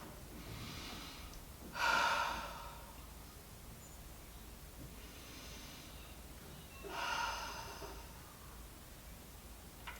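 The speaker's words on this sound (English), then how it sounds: "Take 3 deep inhales and exhales. Inhaling through the nose, exhaling through the mouth." Two slow, deep breaths come from one person during a prenatal yoga session, each a soft inhale through the nose followed by a fuller exhale through the mouth, close and quiet against a still room.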